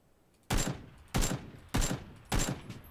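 Four sharp gunshots in PUBG, evenly spaced about half a second apart, each a loud crack with a short ringing tail, close and alone with no talk.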